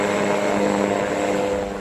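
A military drone of the IRGC aerospace force's drone unit flies overhead with a loud, steady propeller drone and a constant whine, alone and unbroken.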